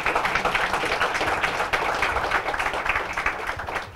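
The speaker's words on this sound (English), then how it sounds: "I think one really resounding round of applause for Phil and the work that he's been doing as pioneering" A resounding round of applause for a speaker at a lecture on Black economic history, dense steady clapping from a sizable audience that holds throughout.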